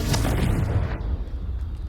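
A Confringo blasting spell explodes in the video game Hogwarts Legacy on PS5: a loud, deep boom bursts at once and rolls off into a fading rumble, alone with no talk.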